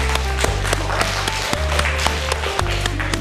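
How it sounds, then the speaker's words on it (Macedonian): Studio audience on a Macedonian children's TV show clapping for the winning team A after a game, steady applause with a low musical bed running under it throughout. "Аплауз за тим А, ајде."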